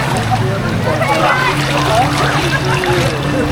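Water sloshing and splashing steadily in a wild lazy river at a water park, continuous broadband wash with a voice and other talk mixed in throughout.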